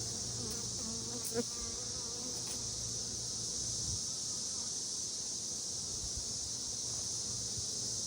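Queenless honeybees buzz angrily in an open hive, a dense, steady droning swarm close by, with a few faint knocks and rustles from handling the frames.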